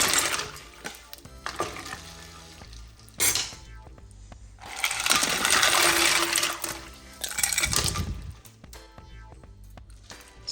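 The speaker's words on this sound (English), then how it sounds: "Now we're just going to add ice until it comes back down in temp." Ice cubes clatter and splash into a pot of hot sugar-salt brine on the stove, arriving in several loud rattling bursts with brief pauses between and no talk.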